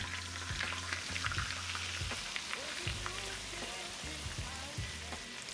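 Pork tenderloin sizzles and spits as it fries in butter in a hot pan, a continuous crackling fry with occasional soft clunks of utensils.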